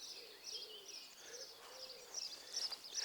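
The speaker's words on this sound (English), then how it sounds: "Owl behind me." An owl hoots in a series of soft, repeated calls, faint and somewhat distant, with other birds chirping and twittering around it at an outdoor spot.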